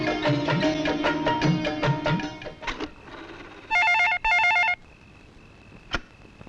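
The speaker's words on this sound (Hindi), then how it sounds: "भैया आपके लिए फोन है।" Telephone in a Bollywood film scene: a rapid electronic ring trills in two clear bursts after a stretch of music, followed by a single sharp click, with no talking.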